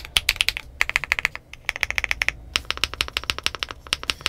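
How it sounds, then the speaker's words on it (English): Fast, close typing on a WOBKEY Rainy75 aluminum pre-built mechanical keyboard makes crisp, clacky keystrokes in quick bursts with a brief pause in between, loud and alone. "for a stock aluminum pre-built, I have a space bar that sounds like that."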